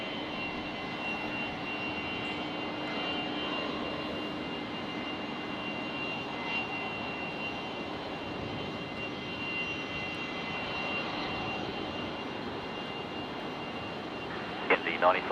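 A China Airlines Airbus A350 jet at Brisbane Airport, its engines giving a steady, loud whine and roar close by that stays even for the whole stretch, with a brief clatter at the very end.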